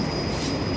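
A metro train at Balçova Çağdaş station in Izmir gives a steady, loud rumble with a thin high whine, continuous and close, with no voices over it.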